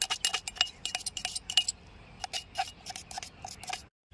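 Crushed chilies being mixed with tamarind and other ingredients for Gujarati ubadiyu in a vessel, heard as a run of bright clinks and light tapping of utensil against the container, close and fairly steady, then stopping abruptly.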